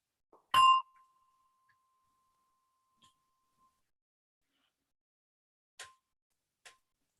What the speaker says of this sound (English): With the gong, let's start a short meditation. As you hear a gong,